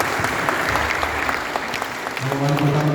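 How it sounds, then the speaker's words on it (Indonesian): Steady applause fills a government coordination and evaluation meeting hall, a room full of hands clapping continuously at even loudness, with a voice briefly audible over it near the end. "Mana tepuk tangan ini?"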